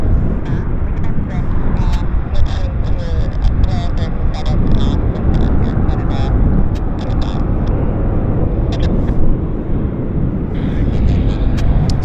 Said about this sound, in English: This is the Air Canada Narita flight that's now taxiing.